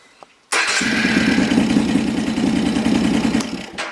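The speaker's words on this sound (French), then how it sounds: "vous démarrez la moto" A motorcycle engine is started after a moment of quiet; it catches abruptly and settles into a steady, close, loud idle with a rumbling low pulse during carburetor synchronization, then cuts off near the end.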